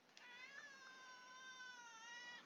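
A house cat meows in one drawn-out, wavering call that holds steady for about two seconds before trailing off, heard close and alone over faint room quiet.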